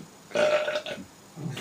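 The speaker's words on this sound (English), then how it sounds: "If I wanted my burps to be like the best burps in the world, man, I could be like, I'm not going to burp now" A single loud, close burp lasting under a second, rough and guttural, followed by a quieter trailing grunt, with no talk over it.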